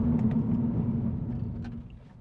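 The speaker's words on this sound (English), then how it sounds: "I'm going to go for an emergency brake test at this cone" A 2022 Subaru BRZ decelerates hard under emergency braking, a close low rumble of engine and tyres fading as the car slows to a stop, with faint light clicks near the end.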